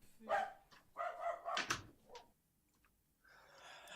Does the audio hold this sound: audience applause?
no